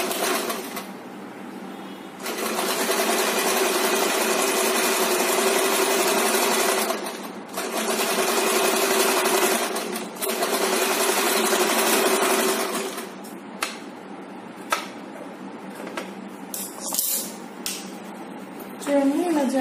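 A sewing machine runs close and loud, stitching a gathered chudidar pant in long continuous runs broken by short pauses, then trails off into quieter handling sounds.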